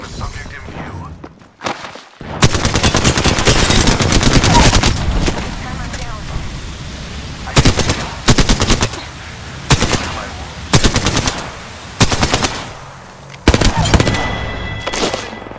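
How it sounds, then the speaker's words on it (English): Rapid automatic gunfire from a video game firefight rattles in long loud bursts, broken by short pauses, with sharp single shots and impacts mixed in. "I'm taking shots"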